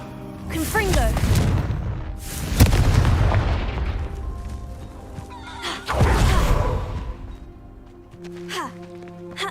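Fiery Confringo blasts in Hogwarts Legacy burst out as several loud, booming hits spaced a few seconds apart, with a horse whinnying and voices speaking amid the combat noise.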